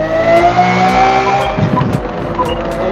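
A race car in Forza Motorsport downshifts into a hairpin with a loud, close engine whine that drops and stutters midway, then rough revving and short tire squeals follow as the car picks back up.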